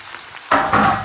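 Garlic and chopped onion frying in a pan for a raw turmeric gravy: a loud, steady sizzle bursts in halfway through after near silence and keeps hissing to the end.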